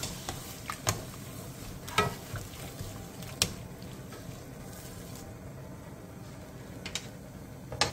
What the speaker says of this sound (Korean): 그 다음 물 1컵과 진간장 5스푼을 넣고 센 불에서 끓여주세요.